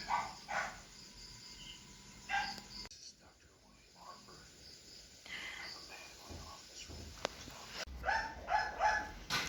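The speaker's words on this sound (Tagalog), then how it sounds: "Ang ingay naman ng mga aso na" Dogs bark in short bursts at a distance, several times over a quiet background with insects chirping and occasional soft talk.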